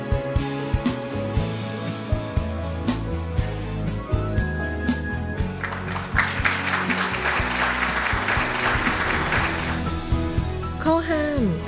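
An audience at a university degree-conferring ceremony applauds graduates in a steady roar across the whole stretch, with music and other sounds mixed in and a faint whistle near the end.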